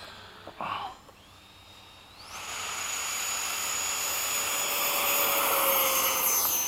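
A Freewing 90mm F-104 RC jet takes off on an evening at a flying field, its turbine-like whine sweeping upward, then swelling into a loud, steady rushing roar that holds to the end.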